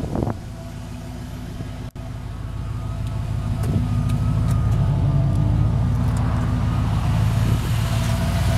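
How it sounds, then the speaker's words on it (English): A 1992 Ford F-150 4x4 pickup, warmed up, idles with a steady, deep exhaust rumble that grows slightly fuller partway through and holds close and constant to the end. "Here's got great sound coming from the exhaust."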